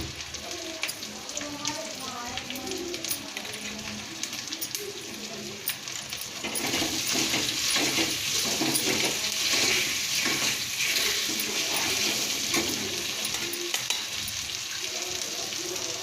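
Taro (arbi) frying in a pan with a pinch of salt, a steady sizzle that swells louder partway through, mixed with scraping and clinking and some background speech.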